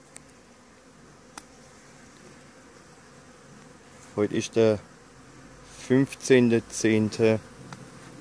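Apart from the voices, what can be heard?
Carniolan honey bees flying at hives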